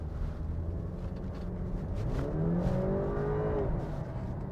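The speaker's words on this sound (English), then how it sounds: "we're going to give it a little test here on the road and see how the acceleration is" Range Rover Evoque Coupe with over 100K miles and about eight years of use accelerating hard on a road, heard from inside with a steady low engine rumble that climbs into a rising rev.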